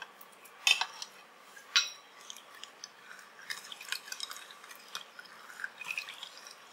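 Jaggery being stirred into water for panakam, with scattered spoon clinks against the vessel and soft swishing, close and fairly quiet, with two sharper taps early on.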